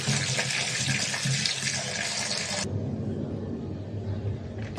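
Green ambarella fruits being washed in water, a steady splashing and running-water wash that cuts off partway, leaving a quieter, duller swishing afterward.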